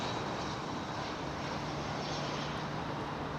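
An Airbus A380 jet taking off at London Heathrow in the early morning, heard as a steady broadband engine roar at a distance, fairly faint and continuous without voices.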